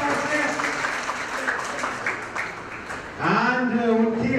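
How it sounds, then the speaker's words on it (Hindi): Applause from the audience at a Rajasthan film festival award show, steady clapping through most of the moment, with an amplified voice speaking over it and growing louder toward the end. "एक बार हिमांशु को तालियां हो जाए"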